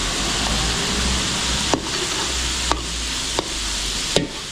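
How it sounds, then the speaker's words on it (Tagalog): Garlic and onion sauté in a catering pan, a dense, loud sizzle filling the whole clip, punctuated by four sharp knocks of a utensil against the pan at irregular intervals, with no speech. "gigisa na natin to. Bawang sibuyas."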